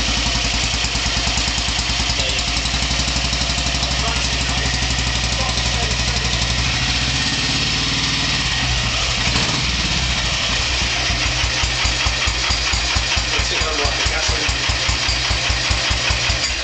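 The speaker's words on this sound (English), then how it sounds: "This is the engine note." A motorcycle engine idles close by with a steady low chugging throb, settling into a clearer rhythmic putter toward the end.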